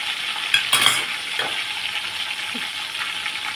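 Sliced onion and garlic fry in a pan for an Agri-style green masala vegetable, giving a steady close sizzle with a few brief scrapes of stirring near the start and no talking.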